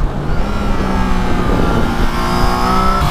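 Triumph Trident 660 motorcycle from 2021 pulling hard under acceleration, a steady loud engine drone with rising harmonic tones and road rush over about three seconds, no voices.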